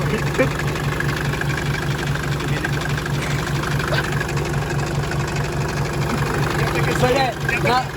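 A car engine idles close by with an odd, rapid, regular knock ticking through its low hum, steady throughout, while people talk over it.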